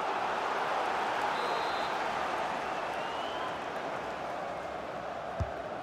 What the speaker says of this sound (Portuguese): A torcida faz barulho.